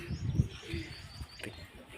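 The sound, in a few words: pigeons cooing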